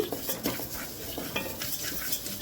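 Rice dry-roasting in a pan for sambar powder, stirred with a metal spoon that scrapes and clinks in quick uneven strokes against grains rustling close by.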